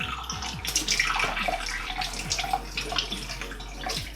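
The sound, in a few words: water rinsing a Staresso portable espresso maker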